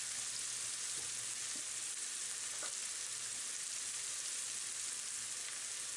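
Tomatoes and onions, salted, cook in a pan with a steady, even sizzle and faint crackle that runs throughout, with a couple of light utensil touches.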